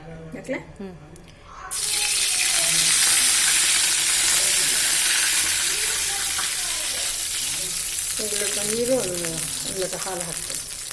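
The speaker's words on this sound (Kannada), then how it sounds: "in the same pan she is adding some more ghee" Ghee sizzles loudly in a hot pan for kesari bhat (sooji saffron halwa), a steady broadband hiss that starts abruptly and continues, with a voice speaking briefly over it near the end.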